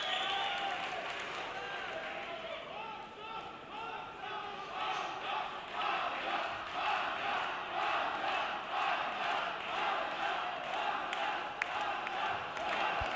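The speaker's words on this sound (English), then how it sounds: "this crowd now getting behind Hamza Touba" A boxing crowd at a Germany v Algeria bout roars steadily behind Hamza Touba, a dense, sustained cheer with rhythmic swells under a commentator's voice.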